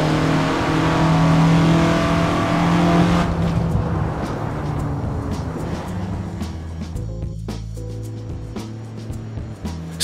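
A 1967 Russell Alexis Mk.14 Formula Ford races in the Assetto Corsa sim, a loud engine roaring at high revs up close, then shifting pitch and easing as another car passes, with the engine note continuing steadily.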